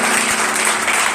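A church congregation breaks into loud applause and cheering, a dense unbroken wash of clapping close by for just over a second.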